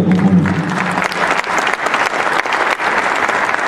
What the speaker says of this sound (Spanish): Un fuerte aplauso a nuestra Corazita y a todo lo que compone.